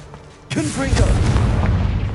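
Confringo spell blast in Hogwarts Legacy on PS5: after a quiet moment, a sudden loud, booming explosion bursts out and rumbles on, with a voice heard over the blast.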